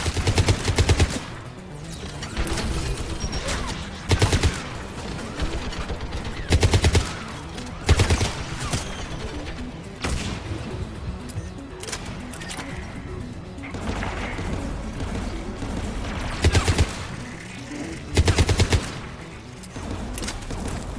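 Automatic geth turret gunfire in Mass Effect 3 Legendary Edition, loud repeated bursts of rapid shots with crashing impacts, spaced every couple of seconds over a steady background din.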